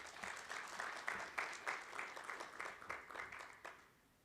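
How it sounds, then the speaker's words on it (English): A faint round of clapping from a crowd at an internet governance forum in Rwanda after a speech, with rapid, uneven claps that thin out and stop near the end. "this speech doesn't deserve this round of applause"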